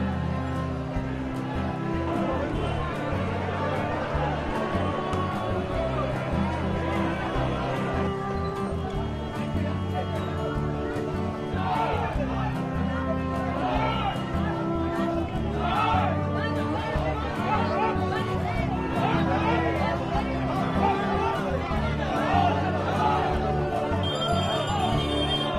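A large, dense crowd chatters and clamours around The Great Khali riding in an open jeep at a political rally in Kolkata, with a continuous babble of many voices beneath louder music-like tones.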